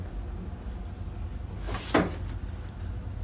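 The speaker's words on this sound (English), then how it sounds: "I literally hear knocking." A single sharp knock-like thump on a door or cupboard inside a house, brief and fairly close, over a low background hum.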